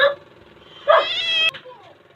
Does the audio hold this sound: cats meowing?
yes